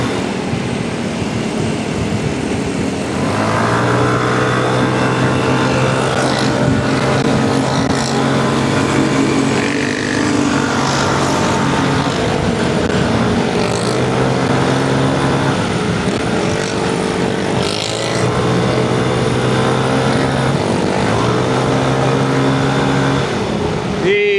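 A Vespa S125 scooter rides through traffic, its engine droning steadily with shifting pitch and a constant loud wash of road and wind noise, and a voice talking now and then underneath.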